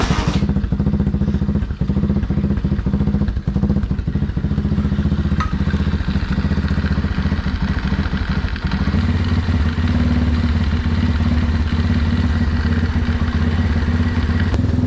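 The Project X motor runs during a test drive, a loud, continuous, rough mechanical drone with clattering thumps, shifting to a deeper, heavier tone partway through.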